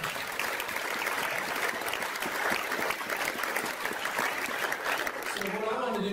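A conference audience at a seed industry summit applauds steadily and densely for several seconds, with the clapping tapering off near the end.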